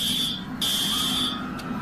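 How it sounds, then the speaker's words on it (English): A school lockdown alarm blares as a loud, steady electronic tone, briefly cutting out and resuming, with no voices over it. "The lockdown alarm rang."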